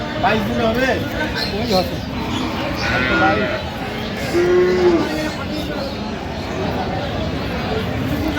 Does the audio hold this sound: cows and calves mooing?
yes